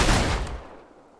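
A single loud gunshot blast from a battle in Fable III, close and heavy, with a short rumbling decay that fades out within about a second.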